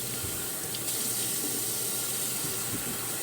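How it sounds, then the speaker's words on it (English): Steady running water from a kitchen sink tap while someone washes their face, a continuous close hiss with faint splashing. "I'm gonna wash my face."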